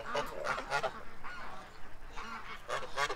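Several ducks honk and quack in repeated bursts at the end of the day near a bush and a long stretch of running fence, calling outdoors at moderate distance with no talk.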